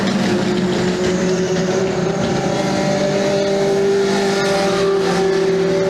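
Legend cars racing flat out on a circuit, a loud, continuous engine drone with sustained tonal whine holding steady at high revs, close and uninterrupted throughout.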